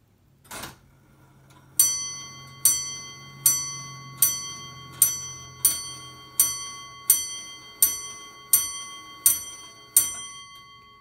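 A French Comtoise Morbier clock strikes twelve on its bell: twelve evenly spaced, ringing chimes, each decaying into the next, over a faint steady tick, loud and close with no voices.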